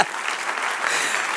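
Brief burst of congregation applause at a Spanish-language church sermon, a dense, steady wash of clapping from many hands, moderately loud and unbroken.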